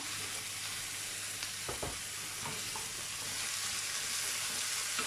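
Tomatoes and green chilies sauté in a hot pan with a steady, even sizzle throughout, broken by a couple of brief clinks of a spoon against the pan.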